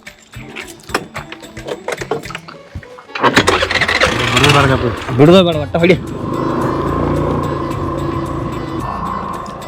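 People talk, then a motorcycle engine cranks and catches, revs up sharply a couple of times, and settles into a steady idle.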